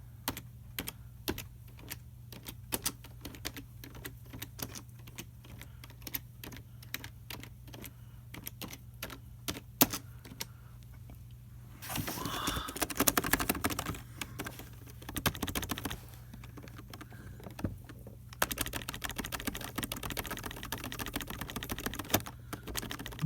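Close, crisp ASMR tapping on a computer keyboard, long runs of rapid individual key clicks with brief pauses and denser bursts of typing, all without talk.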